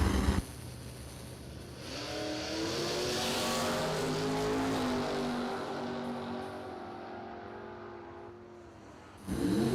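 Drag racing cars, one of them a Ford Mustang, roar down the strip in a long engine pass, rising and then fading as they pull away, with a fresh burst of engine noise at the end.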